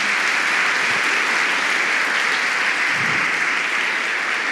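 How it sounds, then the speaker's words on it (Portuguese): A church congregation applauding together, dense loud clapping that holds steady throughout, with no voices over it. "Você pode aplaudir Ele então?"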